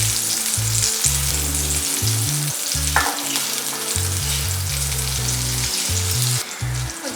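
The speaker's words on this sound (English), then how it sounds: "Just want to melt the butter." Butter melts and sizzles in a pan over a low flame, a loud, steady close frying hiss with light stirring, and music playing underneath.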